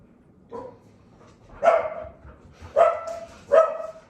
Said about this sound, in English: Sorry for my dogs, guys.